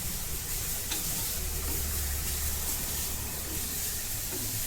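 Carrots with turmeric sautéing in a pan, a steady soft sizzle and hiss running the whole time, with a faint scrape of stirring now and then.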